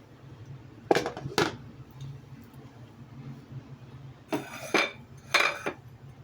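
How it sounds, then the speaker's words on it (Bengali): Metal lid clattering onto a cooking pot holding fish curry, a few sharp clinks in two short bursts with quieter kitchen background between, no voices. "এখন আবার ঢাকনা দিয়ে ঢেকে দিব"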